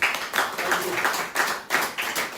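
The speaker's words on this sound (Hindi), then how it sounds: "सर के लिए जोरदार ताली एक बार" Audience at a team training session claps for the speaker, a dense burst of group clapping with a rhythmic pulse of roughly synchronized beats, fairly loud and close.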